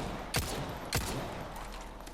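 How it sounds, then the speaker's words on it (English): The Red 9 handgun in Resident Evil 4 fires two loud, sharp shots about half a second apart over a steady background hum. "Red 9 fire rate."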